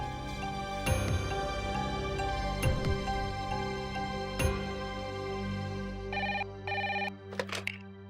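A telephone rings in a scene from a Hindi TV serial. Its electronic trill repeats in short bursts near the end over a steady musical background, with no one speaking.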